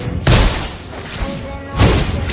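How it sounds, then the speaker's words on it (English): In the Mobile Legends video game, two heavy booming blasts sound as a turret is destroyed, loud and close, about a second and a half apart, with game effects ringing between them. "Our turret has been destroyed"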